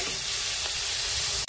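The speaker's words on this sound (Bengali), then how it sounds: "চিংড়ি মাছ ভাজা হচ্ছে" Prawns fry in a generous amount of mustard oil in a wok, giving a close, continuous hissing sizzle with a faint stir near the end.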